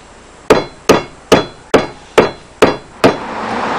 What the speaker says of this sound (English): using the mallet again insert them into each end